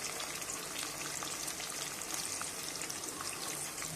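Chopped large onions tipped into hot tempered oil in a pan for a Tamil-style turkey gravy, giving a steady, fairly faint sizzle and crackle with no break.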